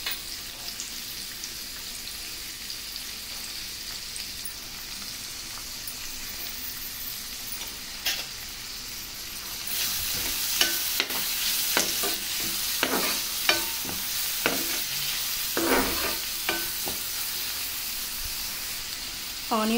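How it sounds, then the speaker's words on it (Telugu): Onions and coriander fry in a pan with a constant sizzle, and a spoon scrapes and stirs in bursts that grow busier and louder partway through. "కొత్తిమీర వేసి కొంచెం ఫ్రై అయిన తర్వాత మనం తీసుకున్న ఆనియన్స్ కూడా వేసుకొని ఫ్రై చేసుకోవాలి."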